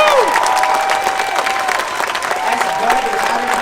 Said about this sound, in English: Can I get a thunderous applause for the mayor?